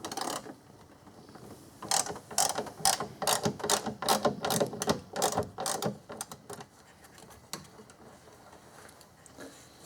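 A big ratchet wrench tightens a plastic radiator fitting during a radiator install on a 2001 QX4. A rapid run of rhythmic ratcheting clicks sounds close by for several seconds, then fades to quiet.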